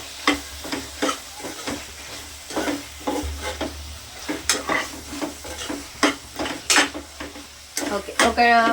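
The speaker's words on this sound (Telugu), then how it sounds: "చిల్లీ పౌడర్ వేసుకున్నాక కలపాలి కొంచెం" Dal khichdi is stirred in a pot just after chilli powder goes in: a steady run of scraping, clinking spoon strokes over a continuous sizzle, close and fairly loud.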